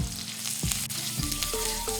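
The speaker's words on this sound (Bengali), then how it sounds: "পেঁয়াজ এবং রসুন হালকা সোনালি হওয়া পর্যন্ত ভেজে নিচ্ছি।" Steady sizzling of onion and garlic frying in hot oil, close and continuous, with a few soft clicks of a spatula.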